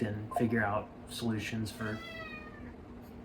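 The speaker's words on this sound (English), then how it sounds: "That's our cat." A house cat meows several times nearby, its drawn-out, rising and falling cries overlapping a person speaking at the start before the last meow trails off alone.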